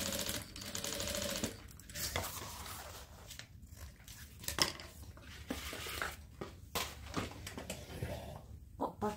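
A sewing machine stitching the folded fabric of a bathroom toiletry bag, running in short bursts of fast mechanical chatter with pauses between, close and fairly quiet.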